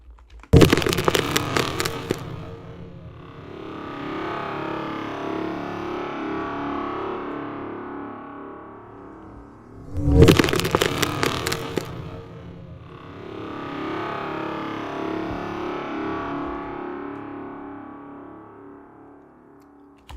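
Two harsh, distorted noise bursts made from household sounds, about ten seconds apart, each followed by a long smeared reverberant tail that swells and slowly fades away.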